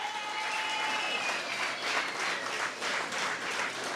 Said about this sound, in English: I want you to give them a special round of applause